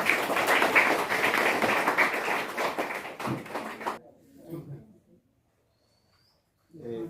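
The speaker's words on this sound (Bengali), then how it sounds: "একটু সবাই একটু হাততালি দিবেন আস্তে আস্তে" Guests at a Christian wedding ceremony clap softly together in a dense, even patter for about four seconds, then it fades into near silence and a voice begins speaking.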